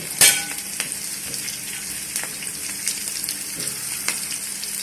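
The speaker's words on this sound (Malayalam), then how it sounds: "സവാള ഇട്ടു" Sliced onions fry in a hot pan for a beef stew, giving a loud, steady close-up sizzle with a few light stirring scrapes.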